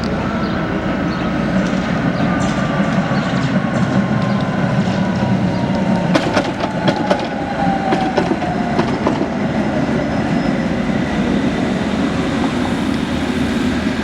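An old T3 tram in Budapest or Bratislava rumbles in close by with steady rolling noise, wheels clacking over rail joints midway, and a long descending squeal as it slows.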